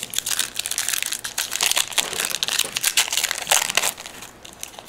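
A Pokémon XY Flashfire trading card booster pack tears open with dense, crisp crinkling and ripping of foil wrapper, loud and close, continuous for several seconds without talk.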